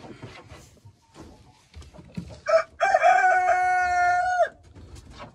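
A rooster crows once, loud and close, a long drawn-out call after some quieter clucking and scuffling.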